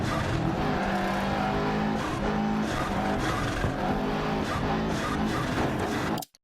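Rally car on an icy Monte Carlo stage in Dirt Rally 2.0, engine revving and droning loudly with shifting pitch, gear changes and tire noise, continuous and close until it cuts off abruptly.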